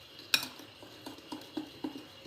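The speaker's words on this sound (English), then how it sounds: "give it a mix." Eggless cake batter being mixed in a bowl, a spoon clinking sharply once against the bowl, then soft rhythmic scrapes and taps repeating at a steady pace, close and fairly quiet.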